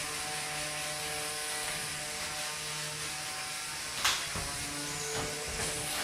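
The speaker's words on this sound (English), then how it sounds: "You can hear those weapons ramping up as the robots try to time their weapon spins with the contact." Spinning weapons of combat robots ramping up during a live arena fight at a convention, a steady whirring mechanical hum with a sharp impact burst near the middle, no talk.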